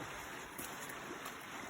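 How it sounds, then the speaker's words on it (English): Legs wading through a small creek on a hiking trail, giving a soft, steady swish and trickle of moving water that stays faint and continuous with no talking. "Got a little water crossing. Just a little creek."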